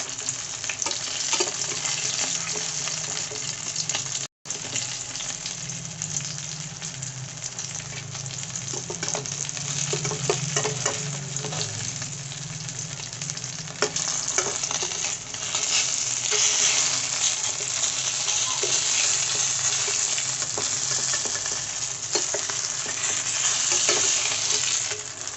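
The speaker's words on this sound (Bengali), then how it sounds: "মাছগুলো ভাজা হয়ে এসে এবার বার করে নেবো।" Koi fish fry in hot oil in a pan, a loud, continuous close crackling sizzle with stirring that runs unbroken apart from one brief dropout, with no voices.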